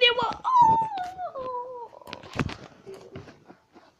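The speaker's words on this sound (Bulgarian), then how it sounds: "Това е лудо куче на Степен" A dog gives a high, wavering whimper that slides down into a drawn-out howl, followed by scattered shorter whines and scuffling noises nearby.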